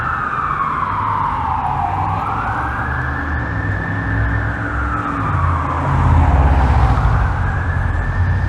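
An emergency vehicle siren wails on a downtown Toronto city street, sweeping up and down in slow cycles over steady traffic rumble, growing louder as it approaches near the end.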